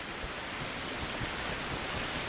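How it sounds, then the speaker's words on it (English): Steady rain pours in a survival video game, a dense, even hiss of falling water that holds at a constant level with no breaks. "It's hard to tell because of the rain, but we're going to continue."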